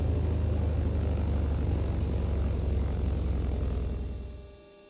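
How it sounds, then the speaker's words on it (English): The right engine of a Britten-Norman BN-2 Islander piston twin in a flight simulator runs down at shutdown, a steady propeller drone and rumble that fades out over the final second. "we'll get the mixture back to idle cutoff on the right engine"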